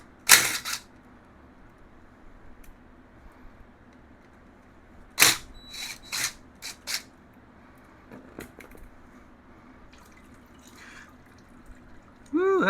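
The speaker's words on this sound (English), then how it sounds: "We'll take these 3 bolts out." Bolts come off the oil filter cover on a 2001 Yamaha Bear Tracker 250 ATV as a few sharp metallic clicks and clanks, spaced apart and close, with quiet stretches in between.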